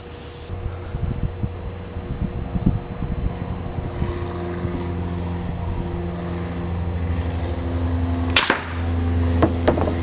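A homemade airgun charged to about 120 PSI fires at a battery, one sharp loud crack late, standing out over a steady mechanical hum with faint clicks, and no one speaks.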